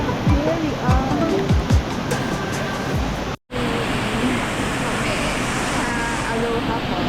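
Aloha Falls on Mt. 387 in the Philippines roars as a loud, continuous rush of falling water that fills the scene, with people talking over it in the first half.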